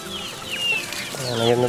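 Free-range native chickens just back from foraging cluck and call close by, with rising squawky notes and a louder cluster of clucks toward the end.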